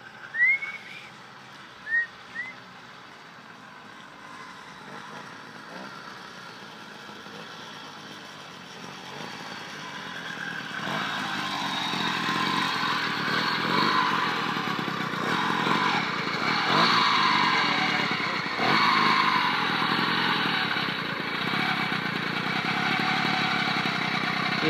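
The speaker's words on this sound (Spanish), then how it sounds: "Y sopla el gran escape, va," A motorcycle approaching, its exhaust rising from a faint distant hum into a steady, louder roar that holds near for the rest of the stretch, with a few brief sharp sounds early on.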